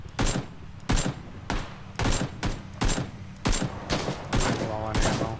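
Repeated bursts of gunfire from the battle royale game PUBG, about seven sharp volleys in a fairly regular rhythm, close and loud, with a voice talking faintly between the shots.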